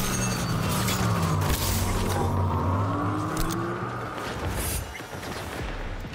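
Gunfire in Cyberpunk 2077: Phantom Liberty, a dense continuous fusillade of shots over steady game noise and music, loud and sustained throughout without any talking.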